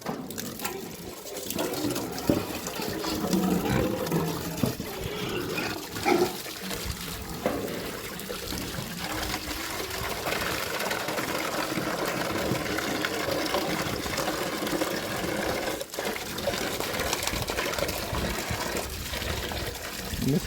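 Water splashes and trickles steadily as it is poured out for pigs to drink on a hot summer day, a continuous close-up gurgle with a voice heard now and then.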